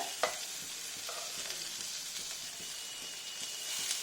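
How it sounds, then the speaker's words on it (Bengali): Onions sizzle and crackle in a hot pan with an even hiss, broken by occasional clinks and scrapes of stirring. Nobody speaks. "এইখান থেকেই একটু পেঁয়াজ ভাজা"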